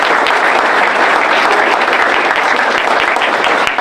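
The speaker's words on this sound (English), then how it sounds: "Give him a round of applause" A crowd at a sports park groundbreaking ceremony gives Thomas Himmler a round of applause, thick, even clapping from many people that runs loud and unbroken throughout.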